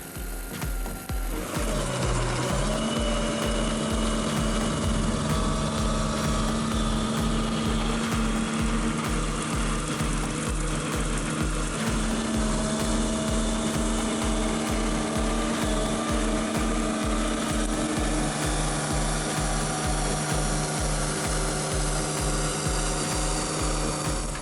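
Demonio forest mower grinding tree stumps, a loud, relentless mechanical grinding and churning with a rapid pulsing beat and shifting engine tones throughout.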